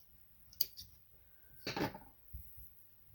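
Crochet yarn snipped with scissors during amigurumi work, heard as a sharp click followed by one fuller, close snip and a couple of faint taps, all quiet and with no speech.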